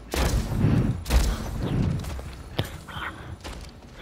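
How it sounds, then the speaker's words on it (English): Gunfire rattles through a Splitgate match: several loud bursts of shots with heavy thumps, the first two strongest, then sharper isolated cracks fading toward the end, with no talking. "People shooting."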